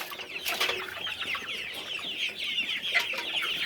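Chickens clucking close by in a coop, a continuous chorus of overlapping clucks and soft calls with occasional louder squawks, no talking.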